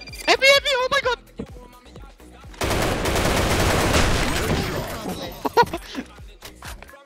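Rapid bursts of video game gunfire from a competitive shooter match, a sustained fusillade of shots in the middle with sharper single reports around it, while players talk excitedly over the action.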